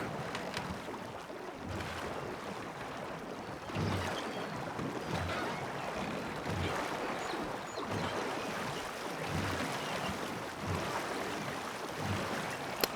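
Rowing boat on a lake in Red Dead Redemption 2 sloshes through water with steady, rhythmic oar splashes every second or two over a soft wind-and-water bed, fairly quiet with no talk.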